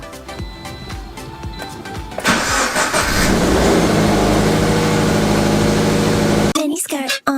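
A Toyota GT86 sports car engine starts and roars into a loud, sustained rev, preceded by background music, with the engine cutting off near the end.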